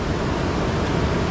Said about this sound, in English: the heavy rapids and the water is just ripping through here from the snow melt in the north.